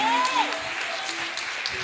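Audience applause at a memorial service, a steady wash of clapping from a gathered congregation lasting a couple of seconds, with a voice and some tonal sound carrying over it.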